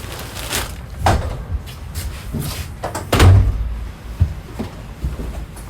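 A wooden storage lid over a bed in a 2022 Forest River Cherokee Alpha Wolf 26DBH-L travel trailer is lifted with creaks and knocks, then dropped shut with a solid thud, close and loud.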